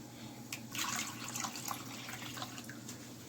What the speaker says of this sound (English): now I'm going to get the cold water for these